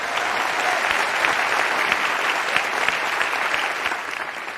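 A TED talk audience breaks into applause, a sustained wash of many hands clapping in a large hall, steady and fairly loud before tapering slightly at the end.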